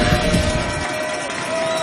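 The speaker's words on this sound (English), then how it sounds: "These fans are on their feet, cheering on these Gators." Football fans at a high school game between Port St. Joe and Baker, on their feet cheering for the Gators, making a steady broadband crowd roar at a fairly constant level throughout.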